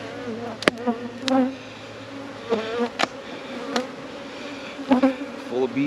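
A dense, steady drone of many bees buzzing up close, with occasional sharp clicks and knocks breaking through the hum.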